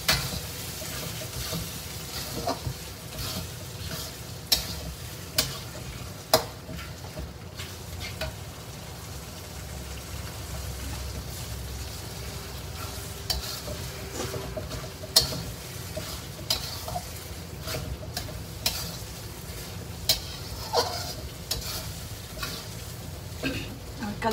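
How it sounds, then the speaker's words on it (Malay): Spleen for sambal paru fries in a pan, a low continuous sizzle with occasional scrapes and taps of a spatula stirring, faint and steady throughout. "Kita goreng sampai dia agak mengering kan"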